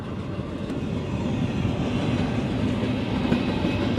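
A train rumbles past on a railroad beside a parked van, a steady low roar with faint clickety-clack from the wheels, close and sustained throughout.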